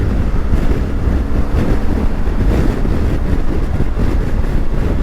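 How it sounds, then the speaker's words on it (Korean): Wind roars inside a rider's helmet on a BMW R1250GSA motorcycle with the windshield at its lowest position: a loud, continuous, close rushing buffet with no talking. "지금 그 윈실드를 제일 낮은 포지션으로 내렸거든요 아, 헬멧 안에 바람 소리가 약간 다른 바람 소리죠."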